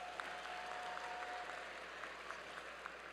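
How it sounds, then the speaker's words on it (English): Applause from a large audience at a Cass Tech high school commencement ceremony, steady and fairly faint, with a thin sustained tone over it. "Yes, that should get an applause."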